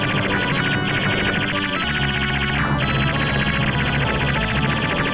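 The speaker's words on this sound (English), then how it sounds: "I guess that sound of your gun shooting is kind of redundant too." Dense, loud arcade audio from the Red Hawk video game, with continuous rapid gun shooting blended into music and effects throughout.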